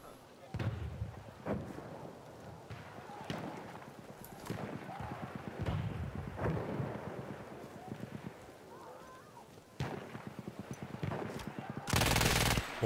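Gunfire in the PC shooter Battlefield 1 on hard difficulty: scattered sharp shots and short bursts crack through the mix, with footsteps and someone talking over the action.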